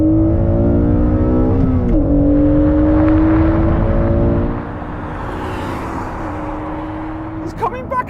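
A sports car engine in a drag race against an old Honda NSX revs hard toward 8,000 RPM, its pitch climbing and briefly dipping at a gear change before the roar fades to a lower drone.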